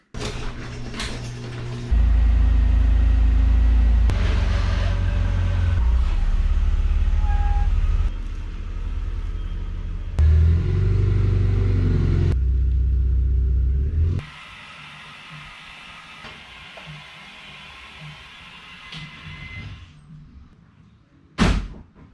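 Cars being started and shuffled around during a Corvette project, with loud low engine rumbles and idling that rise and fall over about twenty seconds, broken by thuds like doors. Toward the end it drops to a quieter background with a sharp knock.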